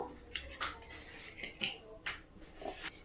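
A spoon stirs tomato rice in a pot, giving soft repeated scrapes and light metallic clinks in an uneven rhythm, quiet and close.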